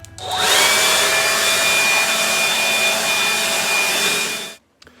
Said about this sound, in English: I bought a blower.